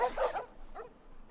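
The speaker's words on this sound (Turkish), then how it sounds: "Vallahi bu köpekler bize saldıracak bence ya." Dogs in The Last of Us video game give a faint, brief bark and whimper at a distance, a single short outburst followed by quieter yips.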